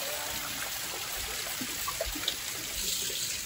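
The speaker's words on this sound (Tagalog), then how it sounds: "Mayroon siyang waterfalls na dito, tapos mayroon din sa mga bato na dumadali ng tubig." A small garden waterfall at a farm resort trickles over rocks, giving a steady, soft rush of flowing water with faint splashes and drips, fairly close and without talk.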